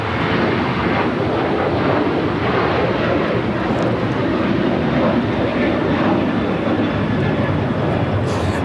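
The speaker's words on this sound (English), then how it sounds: "This is Alaska Airlines Flight 6 taking off to Washington, Reagan National on the 737-800." An Alaska Airlines Boeing 737-800 takes off at LAX, its jet engines a loud, steady, broadband roar that holds constant throughout with no pauses.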